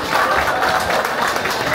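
A crowd at a Sherpa community Losar new-year celebration applauds in a dense, steady burst of clapping that continues through the whole short moment.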